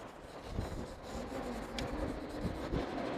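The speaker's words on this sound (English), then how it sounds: "I'm using a blending stump." A blending stump rubs across drawing paper while shading broad areas, a faint, dry, steady scratchy whisper close by with no voices.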